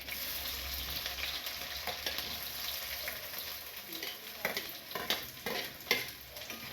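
Onions and garlic sizzle steadily in a frying pan while being stirred, with a continuous hiss under scraping and tapping stirring strokes that grow more frequent toward the end.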